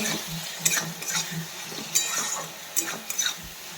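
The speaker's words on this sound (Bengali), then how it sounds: "এখানে মশলাটা কষাচ্ছি চিকেন কষা" Chicken being stirred and sautéed in a spiced masala in a home kitchen, with scattered scrapes and clinks of a spoon against the pan over a faint sizzle, close and moderately loud.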